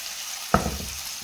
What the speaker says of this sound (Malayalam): അതിലേക്ക് ചാള പൊറുക്കി വെച്ച് കൊടുക്കും